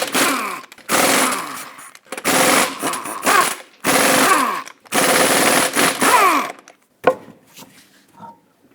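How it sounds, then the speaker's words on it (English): An impact wrench hammers off the 21mm lug nuts on a 2005-2010 Chrysler 300 in five loud, rattling bursts of about a second each, close up, followed by faint clinks. "Use a 21mm socket and remove all 5 lug nuts,"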